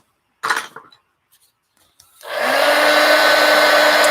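A hair dryer drying watercolor paint switches on after a few light knocks and handling sounds, then blows with a loud, steady whoosh and motor hum close by for the rest.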